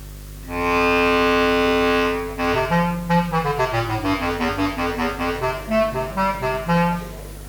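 A bass clarinet holds a long sustained note, then plays a running sequence of quick notes, solo and fairly close.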